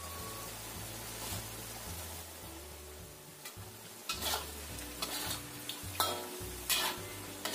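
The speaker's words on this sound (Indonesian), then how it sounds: "kita aduk lagi" Tofu stirred in sweet soy sauce in a frying pan, with a soft continuous sizzle and repeated scraping stirs of the spoon against the pan that grow louder toward the end.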